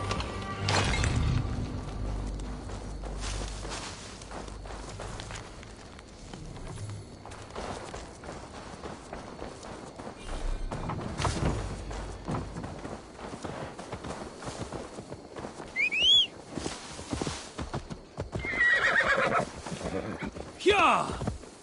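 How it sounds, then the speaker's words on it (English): A horse whinnies amid galloping hoofbeats and clattering in the video game Assassin's Creed Valhalla, with voices and game sounds mixed in over a busy stretch. "Now to deliver Magni his horse"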